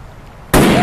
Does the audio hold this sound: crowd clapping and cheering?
no